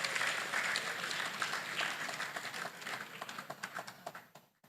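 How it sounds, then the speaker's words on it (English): A crowd applauds at a student meet-up with animation professionals, with a dense round of clapping that thins into scattered individual claps and fades out. "A round of applause, please."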